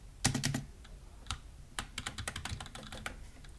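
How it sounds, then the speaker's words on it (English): Rapid keyboard typing, crisp clicky keystrokes in quick bursts with brief pauses, close up and fairly quiet, no voices. "my keyboard sounds like that because it's new"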